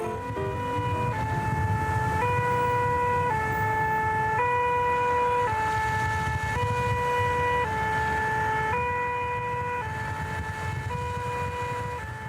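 A fire brigade emergency vehicle's siren wails during an alert, a steady two-tone pattern alternating about once a second over road rumble, loud and continuous with no voices.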